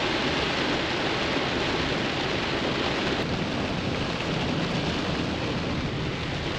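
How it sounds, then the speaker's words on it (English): Heavy rain pours down steadily at a cattle farm during calving season, a dense, loud, even hiss with no breaks. No one speaks. "while it's pouring down and raining, we can't do nothing else"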